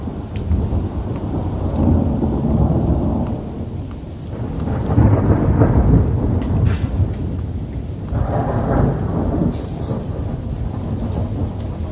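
Heavy rain pours down steadily in the hills while deep thunder rolls repeatedly, loud booming swells rising and fading over the hiss of the downpour.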